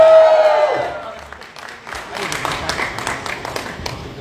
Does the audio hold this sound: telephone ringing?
no